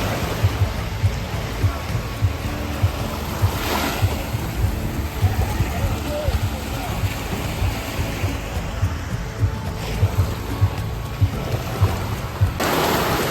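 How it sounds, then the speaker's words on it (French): Sudden tropical downpour over a harbor on the Perhentian Islands, heavy rain hissing steadily with low rumbles and occasional surges, loud and enveloping, without talk. "Et là il s'est mis à pleuvoir en vraiment quelques secondes. Mais c'est un déluge."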